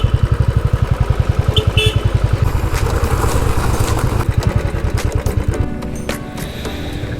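Motorcycle engine idling and chugging with a steady rapid thump at a gurudwara stop near Govind Ghat, Uttarakhand, loud and close throughout, with faint voices and clatter in the background.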